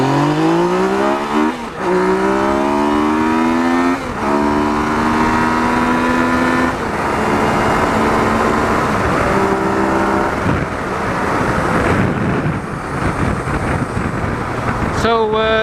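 A Yamaha MT-09 Tracer (FJ-09) motorcycle accelerates hard along a road, its engine rising through the gears with loud climbing revs and wind rush. A rider speaks briefly over the engine.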